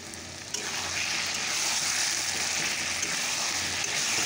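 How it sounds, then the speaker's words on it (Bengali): Chicken sautéing in a pan gives a steady, close sizzle and crackle of frying throughout, with no voices. "আর চিকেনটা এখন কষানো হচ্ছে"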